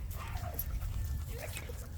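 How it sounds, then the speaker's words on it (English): Rescued XL bully puppies whimpering and yipping, a few thin high cries over a low rumbling background. "I got a couple of XL bully puppies that I rescued"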